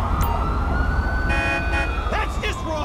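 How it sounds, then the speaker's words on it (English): Siren wails rise and fall over engine and road rumble in GTA V, the ambulance alert mixed with other emergency tones, with faint voices and radio chatter underneath. "I'm gonna have you transferred with an ambulance. Ambulance, assistance required in the Spoochie Canal."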